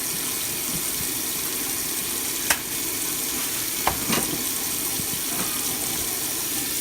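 Pork chops are rinsed one by one under a running kitchen sink tap, a steady close hiss of flowing water with occasional clicks and splashes of the meat being handled.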